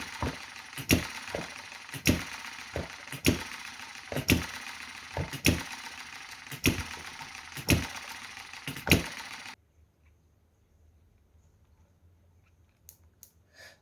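Another small Chinese hit and miss model engine runs close by with clattering, irregular firing beats and clicks for about nine seconds, then stops abruptly, leaving near silence with only a faint hum.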